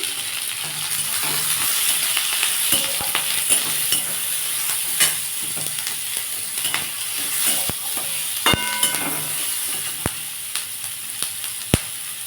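Ghetkol (kharkol) leaves fry with a little turmeric in oil in a pan, giving a steady close sizzle with scattered clinks and scraping stirs of a utensil throughout, and no voices.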